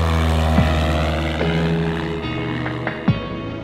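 A Cessna Skyhawk propeller plane departing runway 23 at Cedar Key, heard from inside as a loud steady engine and propeller drone with a few brief knocks.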